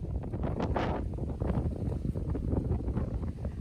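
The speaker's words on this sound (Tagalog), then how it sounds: "Mahangin." Strong wind by the sea buffets the microphone in low, rumbling gusts, a constant roar with no voices.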